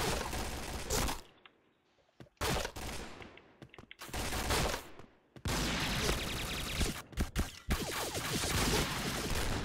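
P90 submachine gun fired in automatic bursts in a video game, with several loud, sustained sprays of rapid shots broken by short silent gaps and faint clicks, without any talking.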